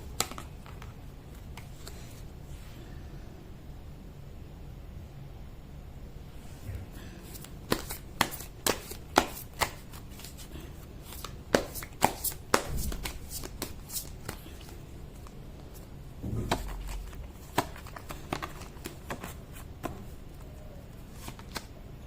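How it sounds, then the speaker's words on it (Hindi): Tarot cards shuffled by hand during a reading: soft, steady rustling at first, then a run of sharper riffling and snapping bursts, close and moderately loud, with no voice over it. "शफलिंग"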